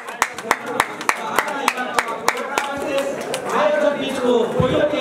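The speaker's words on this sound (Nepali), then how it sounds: "ताली भनेको यस्तो हुनुपर्छ क्या याङ्के बुढाको जस्तो" Spectators at a women's volleyball match in Gorkha clap in a quick, fairly regular rhythm of sharp close claps that grows into a looser crowd clatter, with a commentator talking over it.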